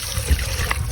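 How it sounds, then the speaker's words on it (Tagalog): A glass of water is poured into white sauce made with margarine in a pan, a short soft trickle and splash against a steady background hiss. "Maglagay na tayo ng isang basong tubig."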